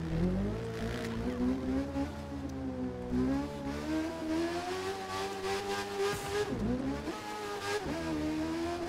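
Kawasaki Z1000 motorcycle engine in The Crew 2 racing game, a steady high-revving whine that rises and dips with gear changes and throttle, loud and continuous with no talk over it.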